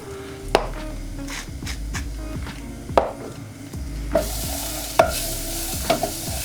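Seasoned onions, salted and peppered, are stirred as they fry in a pan for a steak sandwich, with a spoon scraping and knocking against the pan in repeated strokes over a steady sizzle.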